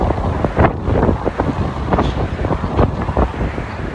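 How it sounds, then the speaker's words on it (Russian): Strong wind buffets the microphone in a steady, loud roar with rough gusts throughout and no voices. "Ну вот, наверное, из-за ветра."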